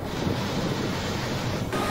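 Rushing water at Ramdaha waterfall during heavy rain forms a dense, loud, continuous roar mixed with wind buffeting the microphone, steady throughout with no voices.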